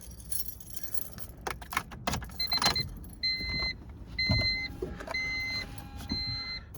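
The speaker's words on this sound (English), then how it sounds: "Let me grab the keys so I can rotate the steering wheel around." A set of car keys jangles close by inside a parked Honda Civic during a gauge cluster swap, bright metallic clinks bunched in short bursts, with a few thin electronic beeps and tones sounding between them.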